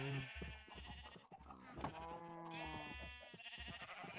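Several Minecraft sheep bleat over one another in a steady, overlapping chorus of wavering baa calls, continuous and fairly faint, with low game noise beneath.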